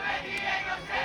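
A group of Cub Scouts at a camp event shout a cheer together, their voices blending into a sustained, moderately distant crowd yell.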